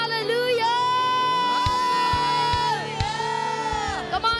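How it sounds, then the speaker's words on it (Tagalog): A church congregation shouts and whoops in loud, sustained unison, cheering voices rising and falling over several seconds, with a few sharp claps near the end. "Sumigaw naman na hallelujah!"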